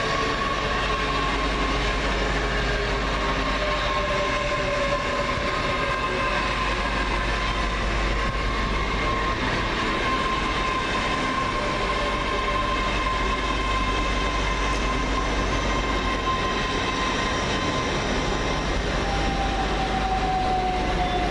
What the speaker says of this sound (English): 8000 312 arrives, working the 1413 Great Western Railway service from London Paddington to Swansea.